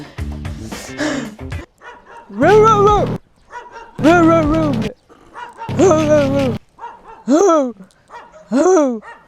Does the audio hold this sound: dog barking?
yes